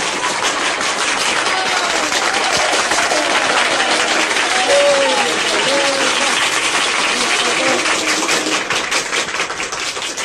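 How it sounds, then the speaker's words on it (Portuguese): An audience at a live comedy show on a vinyl record breaks into sustained, dense applause that fills the room, loud and even throughout with faint crowd murmur beneath. "Vamos recebê-lo com palmas."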